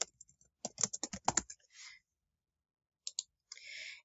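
Quick bursts of typing on a computer keyboard, a cluster of crisp close key clicks, then a pause and a few more taps, with brief soft voice fragments between.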